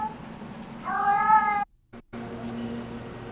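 A feral cat caterwauls in a dark city back alley, one drawn-out wavering yowl like a baby's cry, close and clear, followed by a sudden drop to near silence and a low murmur.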